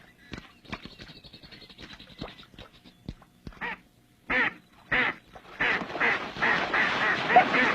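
A hen mallard duck quacks in a series of loud, close, raspy calls that grow denser and more insistent, preceded by sharp clicks and rustling.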